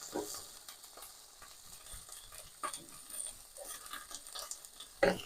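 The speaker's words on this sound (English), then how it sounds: "Give our tomato another stir" Tomato gets stirred in a frying pan, the utensil scraping and tapping in soft irregular strokes over a faint sizzle. Sharper knocks come near the end, and the whole sound stays quiet and close.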